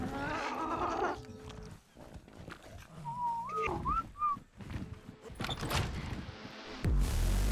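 A whistle command in Ark Survival Ascended: a short, warbling, rising-and-falling whistle sounds mid-clip, set among steady in-game ambience and bleat-like animal calls from the game's creatures.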